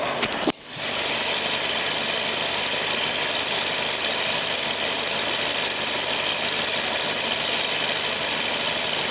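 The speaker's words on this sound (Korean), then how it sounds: "내리셔가지고 엔진 소음도 한번 들어보시죠" A 2009 Samsung SM5 New Impression SE sedan engine idles steadily up close, a constant mid-pitched hum with faint knocking, after a brief clunk at the very start; no voices.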